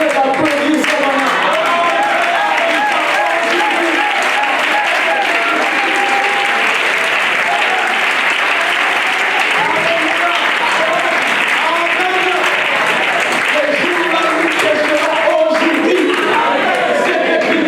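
An audience at a church gathering applauds steadily and loudly for a long stretch, dense continuous clapping with some crowd voices mixed in.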